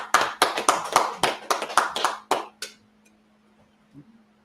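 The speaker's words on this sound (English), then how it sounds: "All right, clap it up." An audience claps in a quick rhythmic burst of about ten loud, even beats, then it stops and near silence follows with a faint low hum.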